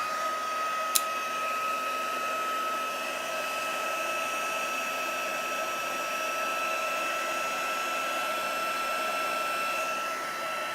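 A heat tool blows steadily to melt gold embossing powder on a card, giving a constant close whirring hiss with a high fan whine that holds unchanged throughout, with no speech.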